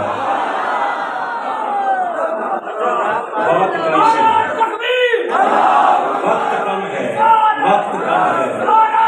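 At an Eid Milad religious gathering, a large crowd shouts slogans in loud, rhythmic call-and-response bursts, with a voice speaking in between and crowd noise filling the background.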